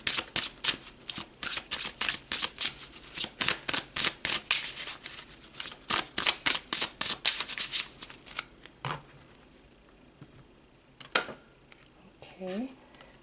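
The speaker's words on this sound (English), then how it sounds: "So let's pull some more cards." Oracle cards being shuffled for a spiritual reading, a fast run of crisp riffling slaps close up for about nine seconds, then a few scattered taps and soft handling sounds.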